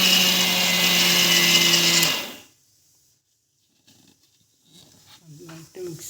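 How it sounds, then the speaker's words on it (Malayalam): Electric mixer grinder spinning wheat flour for soft wheat puttu, a loud steady motor whine for about two seconds that then cuts off, followed by quiet and scattered soft kitchen sounds and a voice. "മിക്സിയിൽ കറക്കെടുക്കുക."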